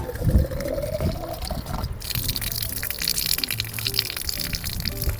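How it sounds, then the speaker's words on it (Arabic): Cold, fresh water runs continuously from an outdoor public drinking fountain in Italy, a loud, steady gushing splash that fills the whole stretch without pause. "النزونه دي بقى هي شغاله كده على طول، بتنزل ميه فريش وساقعه وزي الفل"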